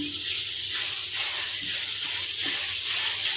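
Grated carrots for carrot halwa fry in a pan with a steady, close sizzling hiss that swells and eases slightly as they are moved around.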